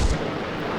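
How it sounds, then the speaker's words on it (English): Aircraft cannon fire in the War Thunder combat flight game, a single heavy, booming thump at the start followed by a dense rumbling tail, loud and close with no voices. "Butt kicker shakes every time you fire the cannon."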